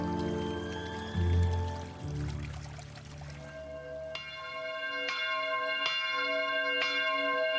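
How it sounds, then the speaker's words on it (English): Seaside chapel bells at Awaji Yumebutai Garden toll four times with long ringing overtones, clear and fairly near, after a few seconds of low murmuring background. "the bells of the seaside chapel toll"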